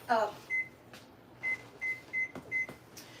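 An oven control panel beeps several short, evenly spaced times at low volume, with faint kitchen clatter and a brief soft voice in the background.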